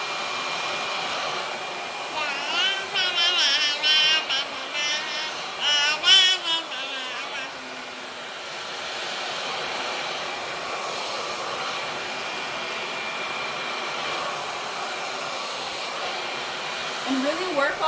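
A hair dryer blowing continuously through a salon blowout, a steady close whoosh whose pitch and loudness waver briefly as it moves around the head, then settles into an even roar.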